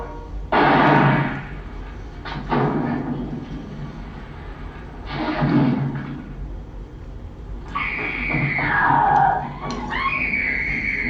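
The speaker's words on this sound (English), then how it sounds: "Even when she's responsible for what's happening, she screams." A woman's shrill screams from the 1959 horror film House on Haunted Hill come in several separate bursts, loud and near, followed by a wavering cry or siren-like tone toward the end.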